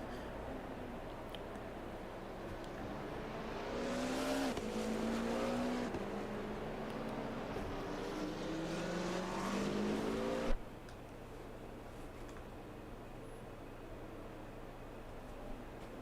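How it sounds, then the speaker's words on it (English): A race car on the Daytona road course during the Lemon Series 3 Hours of Daytona endurance race, its engine rising and shifting through gears as it passes at a distance, then the sound cuts to a quiet steady rumble. "the Griffin red car just in the background there going on to turn 7"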